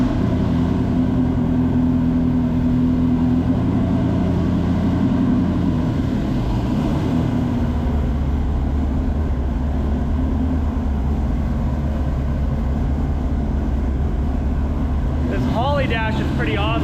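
A Porsche 935 with Holley EFI idles steadily after starting, a loud, continuous low engine rumble that holds throughout, with a brief raised voice near the end.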